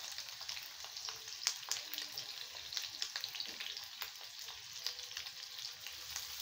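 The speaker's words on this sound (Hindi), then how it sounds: "अब ये तेल गर्म हो चुका। और अब मैं इसमें हरी मिर्च और प्याज जो मैं बारीक काट के रखी थी वो मैं यहाँ पे दे देती हूँ।" Finely chopped green chili and onion dropped into hot oil, a soft, even sizzle with light crackling pops and a few faint utensil touches, heard fairly quietly without any voices.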